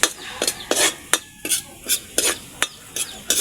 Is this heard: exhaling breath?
no